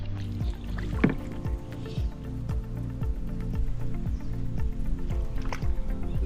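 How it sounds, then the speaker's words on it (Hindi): Wooden boat rowed through monsoon floodwater in Palia, with rhythmic oar strokes, knocks and water swishing close by. No one talks. "बहुत डिफिकल्ट होता है यहाँ पे ऐसे नाव चलाना।"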